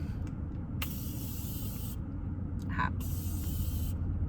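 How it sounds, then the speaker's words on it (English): Morphe setting spray is misted in two short hissing bursts, each about a second long, over a low background rumble. "I sprayed it in the wrong direction."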